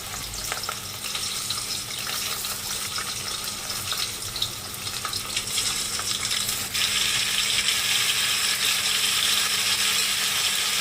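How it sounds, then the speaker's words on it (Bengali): Half-boiled taro corms frying in hot oil in a wok, a steady close hiss and crackle that grows louder about two-thirds of the way through, with no speech. "তেল গরম হয়ে গেলে পরে সেদ্ধ করা মানে হাফ সেদ্ধ করা গাঠিগুলোকে আগে একটু হালকা ভেজে নেব"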